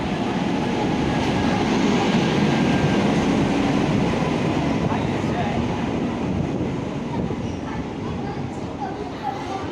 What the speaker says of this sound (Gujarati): ફાઇનલી મિત્રો ટ્રેન આવી ગઈ છે.